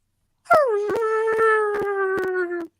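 A person imitates a dog's howling whine, one sustained, wavering vocal tone that bends slightly downward, close and fairly loud, broken by a few brief clicks.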